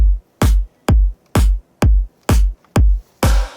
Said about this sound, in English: we usually added snare ambience on second beat or fourth beat.